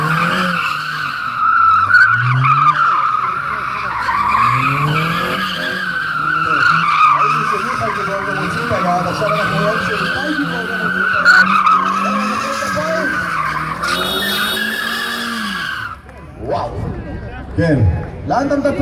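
A Mazda MX-5 Miata drifts at a car show, its tires squealing in a long, continuous skid over a revving engine, with a crowd and talking around it before the noise drops away near the end.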